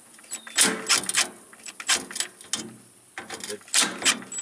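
Bursts from a compact Makita 1/2-inch drive impact wrench on small 7/16 nuts during haybine service work: several short rattling, hammering runs in quick succession, fairly close, with brief pauses between.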